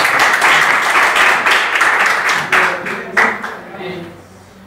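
A church congregation claps hands together, loud and close, with dense rhythmic clapping that thins into scattered claps and fades toward the end, while voices murmur underneath.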